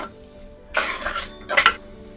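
A spoon scrapes and clatters in a pan as ground masala paste is sautéed for a green val bean curry, two short bursts of stirring close up over a quiet background, without speech.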